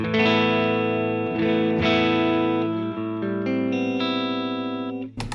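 A clean electric guitar through a Vox AC30 amp with no effects rings out sustained chords, changing every second or so, each strum left to ring before a short scratchy noise at the end.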